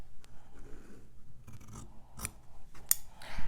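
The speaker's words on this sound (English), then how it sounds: "I'm going to trim off this excess" Scissors snip and slide through excess bias-strip fabric in a few close, crisp cuts with soft rubbing between them, no talking.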